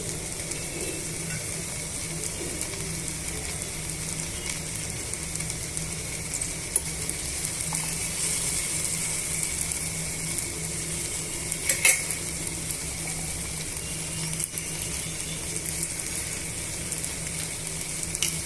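Curry leaves sizzle in hot oil in a pan while making Indian pickle, a steady bright frying hiss throughout with occasional clinks of a spoon against the pan.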